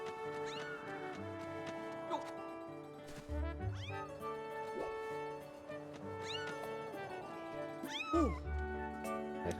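Repeated cat meows in The Legend of Zelda: Skyward Sword, several rising and falling calls spaced a couple of seconds apart over looping game music.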